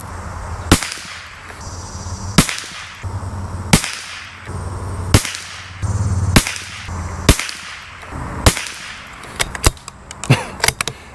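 Aguila .22LR subsonic rounds fire close by as about eight sharp, evenly spaced cracks, followed by a quicker burst of lighter shots at the end.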